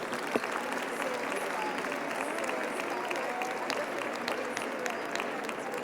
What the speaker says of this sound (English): please join me in a big round of applause to Iris and Esther